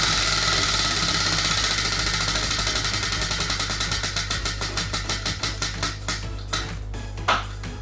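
Prize wheel spun by hand, its clicker ticking rapidly at first and then slowing into spaced clacks until it comes to rest, close and clear without any talking.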